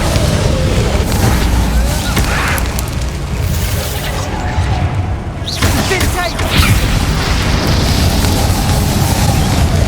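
Repeated spell explosions and bursts from Hogwarts Legacy combat, dense and loud throughout, layered with game effects and a voice calling out in the background.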